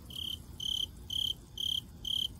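A cricket chirps in five evenly spaced, short high-pitched pulses, close and clear over a faint low background, with no talking.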